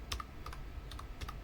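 Keys on a computer keyboard clack in quick, light clusters of a few strokes each, close and steady, as a config command is typed.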